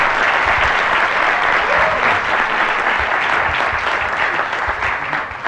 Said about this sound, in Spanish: tengo que pedirles que se pongan de pie todos y un gran aplauso